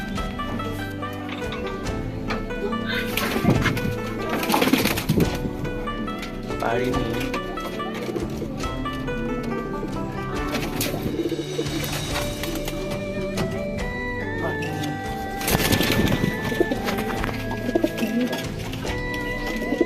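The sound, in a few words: pigeons cooing in a pigeon loft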